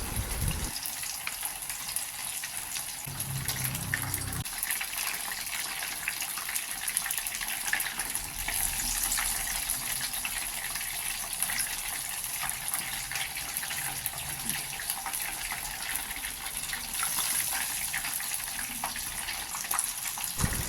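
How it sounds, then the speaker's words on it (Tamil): Pakoda batter dropped bit by bit into hot oil at medium heat, giving a steady, moderately loud sizzle and bubbling that runs alone throughout with no talk. "இப்போ எண்ணெய் நல்லா காஞ்ச உடனேங்க அந்த பசஞ்சு வச்ச பக்கோடா மாவை கொஞ்சம் கொஞ்சமாக போட்டுக்கலாங்க"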